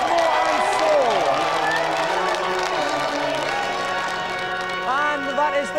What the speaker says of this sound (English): let's have another round of applause for our 3 crackers